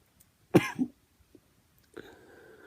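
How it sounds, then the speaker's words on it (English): A single sharp cough up close from a person with cystic fibrosis, followed by a short second burst, then a faint raspy throat sound after a pause. "With that cough and that lung capacity is what I go through."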